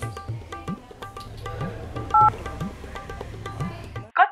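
A telephone keypad sounds a brief electronic dialing tone amid other low, busy background sounds, and a short, sharp tone burst follows at the end.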